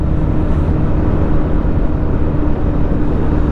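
A loud, steady engine roar with a dense low rumble, continuous and close, like an airplane heard from inside the cabin.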